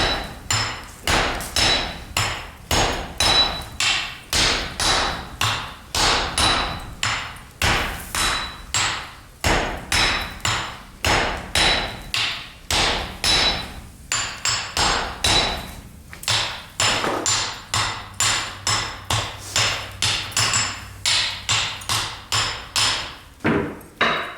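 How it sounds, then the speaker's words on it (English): During traditional Japanese katana forging, a hammer pounds steel on an anvil in a long, steady series of loud, ringing close blows, evenly paced with only occasional brief pauses. "The master carefully pounds the butt of the blade holder on an anvil"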